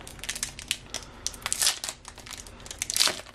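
Foil wrapper of a 2019-20 Top stickers bonus pack being torn open and crinkled, a steady run of close, crisp crackling and rustling with brighter tearing bursts, no voices.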